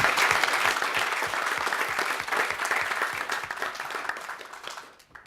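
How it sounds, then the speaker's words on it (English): A room of people at a governing body meeting gives a lady a steady round of applause, dense clapping that holds strong before thinning out and stopping near the end. "A round of applause for that lady."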